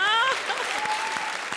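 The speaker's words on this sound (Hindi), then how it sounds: "जोरदार तालियां।" A studio audience at a comedy show bursts into brief, lively applause, a short wash of clapping that follows a voice at the very start.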